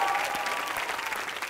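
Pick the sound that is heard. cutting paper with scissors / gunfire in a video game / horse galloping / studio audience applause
studio audience applause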